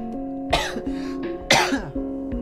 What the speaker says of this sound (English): Once again, sorry about my cough.